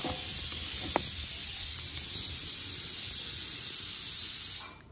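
A pot boiling over on a wood-fired clay stove gives a steady close hiss and sizzle of liquid spilling onto the fire, with one sharp crackle early on, before the sound fades out at the end.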